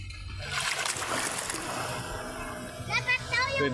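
A wave rolls in and splashes noisily along a shore, with a broad rushing wash throughout, and a voice calls out over the water near the end.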